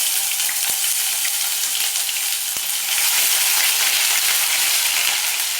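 Cumin, garlic and ginger sizzling in hot oil for a white chickpea curry, a loud, dense, steady hiss close up with two brief sharp taps, and no one speaking.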